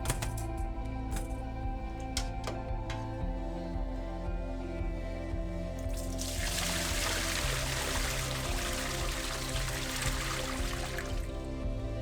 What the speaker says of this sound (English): you see the water looks pinkish, so we're going to throw it away